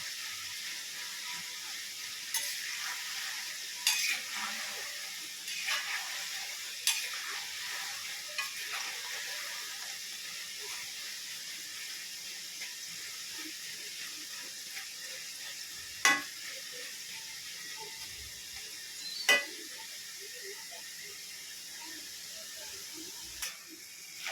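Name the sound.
nimki frying in oil while being stirred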